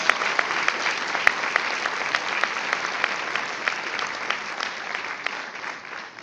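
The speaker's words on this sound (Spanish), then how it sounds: "Dale fuerte tus palmas." A church congregation claps hands steadily and loudly throughout, a dense wash of applause with a few sharper individual claps standing out, fading slightly at the end.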